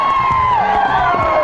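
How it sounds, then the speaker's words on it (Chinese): A studio audience at a Taiwanese TV variety show erupts in loud cheering and high-pitched screaming, a dense, continuous crowd roar close up that fills the whole moment. "掌声加尖叫。"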